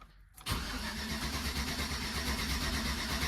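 A 2013 Chevy Tahoe with a 5.3 LS engine cranks over after a short quiet moment, its starter churning steadily and loud without catching.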